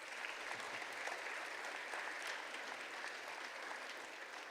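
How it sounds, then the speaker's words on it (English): An awards ceremony crowd applauds steadily, a dense wash of clapping that holds at an even level throughout, sounding somewhat distant. "They deserve a big round of applause as well."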